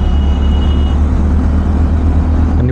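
A truck overtakes on a highway at night, heard as a loud, close, continuous low engine and road roar with steady rumble and no pauses.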